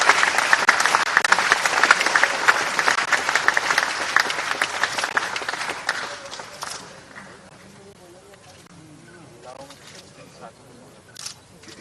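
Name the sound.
audience applause welcoming a speaker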